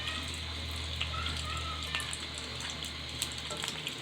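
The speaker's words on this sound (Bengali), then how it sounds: "মরিচ তেলের মধ্যে দিয়ে দিলাম, একটু ভেজে নেব।" Chilies fry in hot oil in a pan for a dried-fish bhorta, giving a steady, close sizzling hiss with scattered small pops and crackles throughout.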